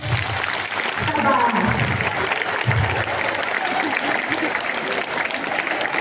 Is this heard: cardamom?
no